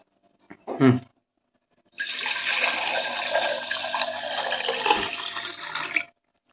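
Rice is rinsed under running water in a home kitchen while cooking a traditional Pongal, a short clatter followed by about four seconds of loud, close gushing water that stops abruptly.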